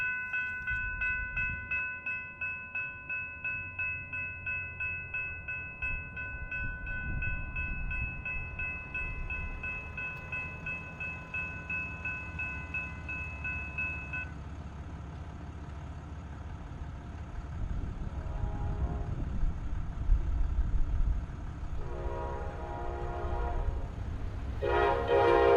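A Brightline passenger train in a Red Bull wrap passes the south end of a Florida rail yard, sounding a sustained horn blast before a low rumble of rolling wheels and engine builds, with more horn notes near the end.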